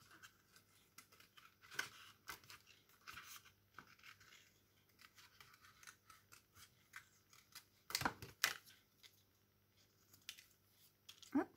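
Scissors cut roughly through paper close by, giving quiet snipping and crisp slicing strokes in irregular bursts with a louder cluster partway through.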